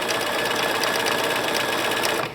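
A sewing machine sews a dense satin stitch on fabric appliqué, running as a steady, fast, close-up whir with a continuous mechanical buzz that stops abruptly near the end.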